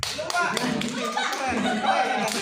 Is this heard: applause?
yes